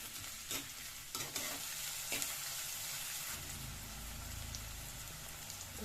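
Chopped onion frying in hot oil with whole spices like cardamom, cloves, mustard seeds and cumin for a black chickpea curry, a steady close sizzle broken by a few sharp stirring scrapes, with no talk.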